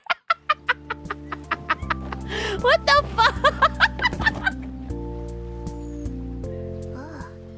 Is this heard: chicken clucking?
yes